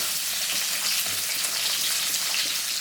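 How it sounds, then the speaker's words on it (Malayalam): Onion sautéing in oil in a new clay pot, a steady soft sizzling hiss close by with light crackle throughout, no voices. "ഇനി സവാള നമുക്ക് നന്നായിട്ടൊന്ന് വഴറ്റിയെടുക്കണം."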